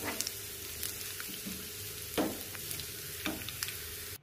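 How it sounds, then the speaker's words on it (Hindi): Garlic and cumin seeds fry gently in about two tablespoons of oil in a pan over a medium flame, giving a soft steady sizzle with occasional stirring clinks. "इसमें 2 टेबलस्पून ऑयल डालेंगे और लहसुन और ज़ीरा जो है इसमें हल्का सा भुनेंगे।"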